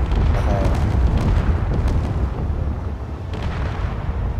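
MAP rounds fire and explode in Space Engineers as a dense, loud rumble of overlapping booms, with sustained heavy thuds and rolling blasts throughout and no clear gaps.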